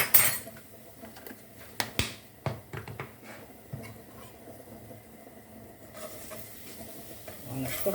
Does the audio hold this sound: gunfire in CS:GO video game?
no